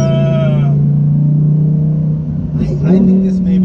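A Lamborghini engine holds a steady, loud, droning idle for a few seconds, then its pitch lifts in a brief rev near the end.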